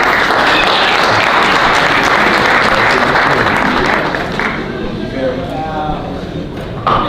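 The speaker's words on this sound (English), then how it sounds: "Please give him a round of applause, Councilman Ala Abdelaziz." An audience at a Black History celebration applauds with dense, sustained clapping that swells and then thins toward the end, and voices are heard within the applause.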